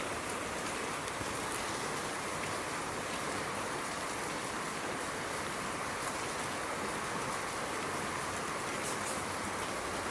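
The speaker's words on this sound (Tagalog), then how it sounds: "Maulan na panahon." Steady rain falling outdoors around a garden of plants, a dense, even hiss that stays constant and moderately faint throughout, with no voices.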